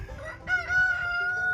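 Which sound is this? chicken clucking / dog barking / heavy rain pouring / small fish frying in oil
chicken clucking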